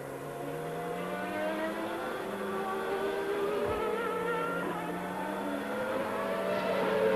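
High-revving Formula One engine during qualifying for the 1993 Hungarian Grand Prix, with Alain Prost's car on track near a McLaren. A steady, close, loud multi-harmonic whine holds for the whole stretch, its pitch wavering slightly, with no talking.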